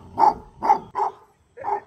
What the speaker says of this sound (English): I see you over there barking, carrying on.